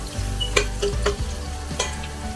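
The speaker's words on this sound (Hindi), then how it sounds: "प्याज ब्राउन करने के बाद इसके अंदर मैंने गोश्त डाल दिया है और इसको अब मैं भूनूंगी।" Mutton frying in a pot with whole spices and browned onion, a loud sizzle broken by several sharp stirring scrapes and clatters, close and without talk.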